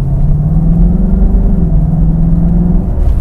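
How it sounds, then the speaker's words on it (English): Mercedes-Benz W126 560SEL with a 5.5-litre V8 at full throttle, a loud, smooth, steady engine drone with a rising tone, heard from inside the car and close, no talk over it. "And as I shall now demonstrate by flooring this car"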